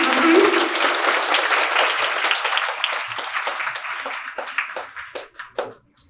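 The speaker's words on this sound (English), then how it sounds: "Give a huge clap for them" Children and adults at a school Earth Overshoot Day event clap for the winners. The applause starts loud and dense, then thins into scattered, separate claps before stopping. No one speaks during it.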